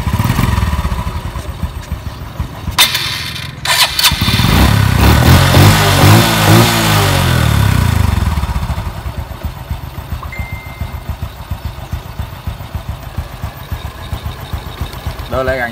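A Honda Dream 125 motorcycle engine runs close by, revving briefly to a louder clattering roar, then settling into a steady, chugging idle.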